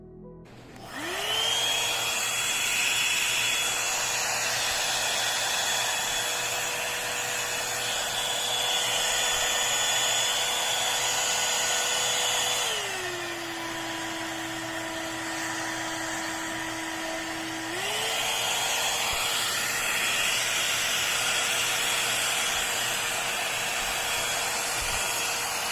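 A Crenova hot air brush styler with a built-in blow dryer runs steadily with a whirring motor hum and rushing airflow. The pitch drops for a few seconds on a lower setting, then rises back, and it stays fairly quiet throughout.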